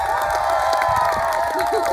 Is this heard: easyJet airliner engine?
no